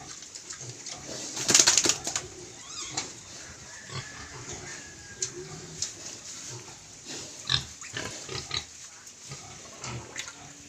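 Native pigs on a small Philippine farm grunt and oink at close range, with pigeon-like cooing and bird sounds mixed in over steady farmyard background noise.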